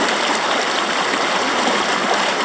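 A river in north-east Tasmania rushes steadily past logs and flood debris, a loud, continuous close-up flow with no voices.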